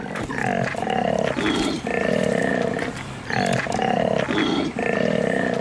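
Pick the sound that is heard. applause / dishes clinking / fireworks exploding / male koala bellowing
male koala bellowing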